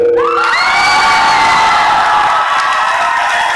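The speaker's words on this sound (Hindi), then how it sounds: "आप लोग वो शोरगुल करके ताली बजा दें" A loud crowd at a training session cheers and whoops with rising shouts, a sustained roar of many voices dominating the moment with some clapping beneath.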